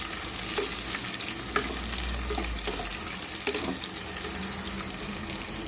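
Spicy green chillies frying in hot oil in a pan, a continuous dense sizzle and hiss with occasional spoon clinks, close and steady.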